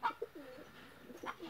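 Pigeons coo softly in a few short, low bursts as they are let go, the calls faint and somewhat distant over a quiet background.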